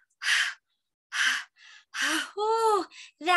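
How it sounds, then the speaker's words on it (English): Hard, breathy gasps in repeated bursts right after fast running, loud and close with pauses between, ending in a voiced sigh-like sound. "Like when you're running fast and breathing hard."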